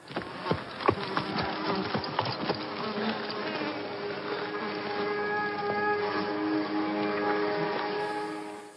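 Flies buzzing close by in a continuous, droning hum that wavers slightly in pitch and carries on steadily with no voices.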